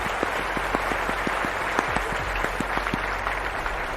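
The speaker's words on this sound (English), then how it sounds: "Applause for that." Scattered clapping from a small group, steady and moderately close, continuing throughout.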